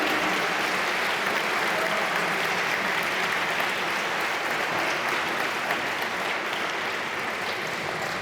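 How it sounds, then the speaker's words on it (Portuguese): Large audience of about 400 people at a political party congress applauds steadily, a continuous even roar of clapping with no pauses. "Uma salva de palmas aos 400 patriotas que vão"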